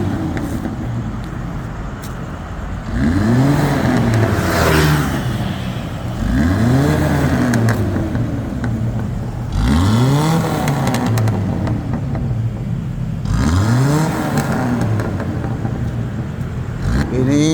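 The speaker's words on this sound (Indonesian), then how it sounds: "dilakukan pengegasan untuk mengeluarkan kerak-kerak yang terproses" A carbureted Toyota Kijang Krista engine revs up repeatedly in four rising and falling surges, loud and close, with a rough idle between each burst.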